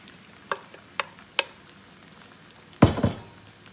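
Food sizzles quietly in a pan while a few sharp taps and clicks ring out, then a louder scraping clatter of utensils against the pan.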